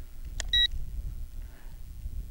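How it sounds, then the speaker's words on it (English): An Eachine EG16 folding GPS drone gives a single short electronic beep during gyro calibration, clear against quiet background hum. "and then you actually get a beep from it"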